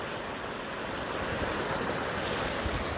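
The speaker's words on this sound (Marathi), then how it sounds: "पाणी बघा मित्रांनो केवढं भरलं स्पीड बघा पाण्याला" A steady, dense roar of rushing, rain-swollen water fills the scene in the monsoon Konkan countryside, broad and constant with no pauses.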